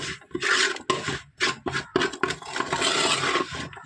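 Meat masala being stirred in a pan for a Kerala-style roast, with a spoon or spatula scraping and rubbing against the pan in repeated loud, close strokes and brief pauses between them.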